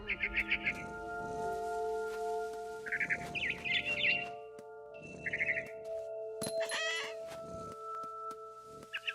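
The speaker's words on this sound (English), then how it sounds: "I heard chirping outside my window. It was a barn swallow going back to her nest." Bird chirps from a barn swallow in the video game What Remains of Edith Finch, several short bright bursts of tweeting over a steady tonal game soundtrack, with occasional rustling.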